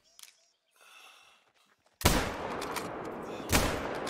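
Gunfire in a hunting video game aimed at a goat: two loud, sharp shots about a second and a half apart, each followed by a lingering noisy tail, after a quiet opening with faint breaths and rustling.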